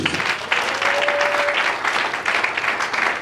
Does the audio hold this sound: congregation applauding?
yes